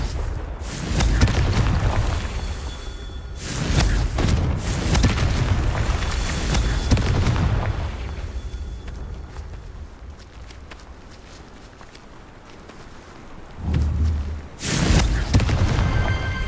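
Fiery Confringo blasting spell from Hogwarts Legacy, a series of loud booming explosions in bursts with rumbling aftermath and footsteps between, a second heavy blast near the end.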